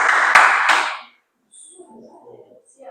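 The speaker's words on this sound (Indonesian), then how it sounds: "Oke, tepuk tangan ini lebih cepat ini" Three sharp hand claps come in quick succession at close range, followed by a short silence and then faint, soft background noise.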